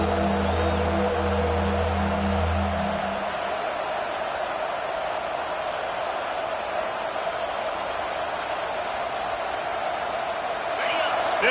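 Broad, steady stadium crowd roar fills a college football video game, with a sustained wash of noise present throughout and a low musical drone fading out early on.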